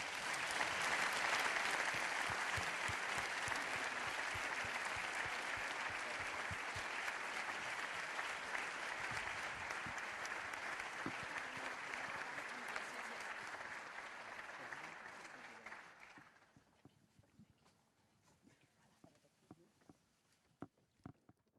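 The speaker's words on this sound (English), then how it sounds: "give another round of applause of appreciation for President Metsola and President von der Leyen" Sustained audience applause at an EU Covenant of Mayors ceremony for Presidents Metsola and von der Leyen, a dense, loud crowd of clapping that holds steady for about fifteen seconds, then drops away to a few scattered late claps.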